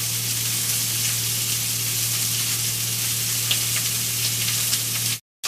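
Beef browning in a hot pan for stroganoff, a steady, close, loud sizzle and crackle that runs without a break before cutting off abruptly at the end.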